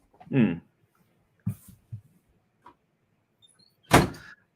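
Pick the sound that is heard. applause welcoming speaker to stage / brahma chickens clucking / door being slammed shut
door being slammed shut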